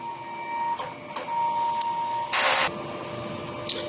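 A DTF printer runs a heat clean cycle, giving a steady mechanical hum with faint tones, a few light clicks and a short louder whirring burst near the middle.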